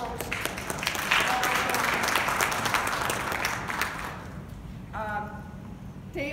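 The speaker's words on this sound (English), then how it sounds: "So please join me in giving a round of applause to our host." A large audience gathered in an Orthodox Jewish community setting in Queens, New York, breaks into sustained, dense applause that swells and then fades, followed by a few seconds of speech.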